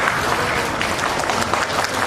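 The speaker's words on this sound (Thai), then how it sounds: "ปรบมือให้คุณแม่เลยค่ะ" People at a Thai mall event at Robinson applaud a mother being honored, a thick, unbroken patter of crowd clapping heard alone and fairly close.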